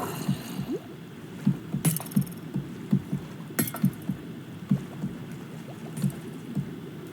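In a video game underwater wreck, a drowned enemy carrying a trident makes rhythmic low gurgling, sloshing water pulses, with two sharp bright clanks standing out over murky ambient water.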